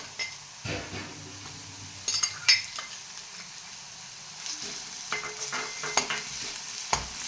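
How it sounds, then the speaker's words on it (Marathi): Ginger-garlic paste frying with onion in a pan for egg masala, a soft steady sizzle with stirring scrapes and a few sharp metallic clinks of a spoon against the pan. "याला पण चांगलं तळून घेते।"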